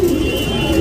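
A male tournament pigeon, a Sabzal-type cock about three years old, coos in one low, steady, close call that fills the moment with no talk over it.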